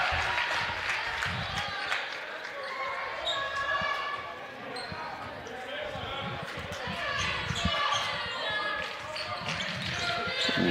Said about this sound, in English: Lady Wolverines clapping along, cheering their guys on here tonight.